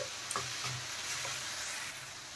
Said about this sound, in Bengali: ভালো করে নেড়ে চেড়ে মিশিয়ে নেব।